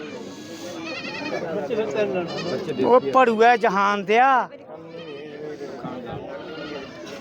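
Beetal goats bleat repeatedly at a goat market in Tungwali, wavering, quavering cries, several loud calls clustered in the middle, while people talk over them.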